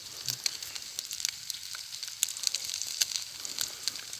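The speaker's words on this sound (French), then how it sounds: "Ça commence à crépiter." Food crackles and sizzles on a camping grill, steady close frying with sharp pops scattered throughout, alone without voices.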